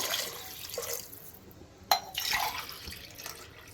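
Water is poured from a tumbler into rice and lentils for bisi bele bath, making soft splashing and trickling with one sharper splash midway, faint and close.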